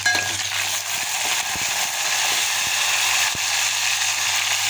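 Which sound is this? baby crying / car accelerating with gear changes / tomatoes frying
tomatoes frying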